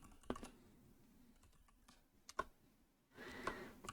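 Clicky computer keyboard typing in a quiet room, with a few sharp isolated keystrokes and a denser burst of keys near the end, no voices.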